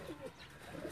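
An Indian-breed pigeon coos close by on a rooftop loft, two soft, throaty rolling coos about a second apart, alone with no talking.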